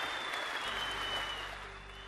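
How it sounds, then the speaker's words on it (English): An audience claps in steady, sustained applause for a speaker that fills the room and fades slightly toward the end. "A huge round of applause for Shelby, please."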